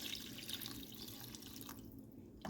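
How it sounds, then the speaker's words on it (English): Broth poured into a pot of vegetables while making New Orleans-style crawfish pie, giving a soft, steady liquid splashing and trickling that fades out near the end. "So I'm going to add my broth to the vegetables right here."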